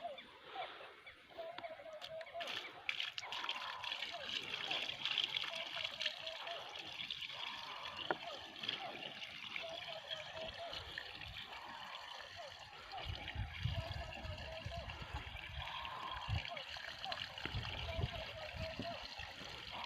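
Water trickles and splashes steadily into a pipe through a T-joint in a farm field, a continuous gurgling flow with occasional knocks, close by and fairly quiet.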